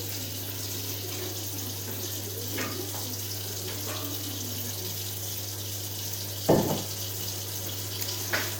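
Water runs steadily from a tap while a hairbrush is washed, a continuous close hiss with a low hum underneath and a brief louder splash or knock partway through.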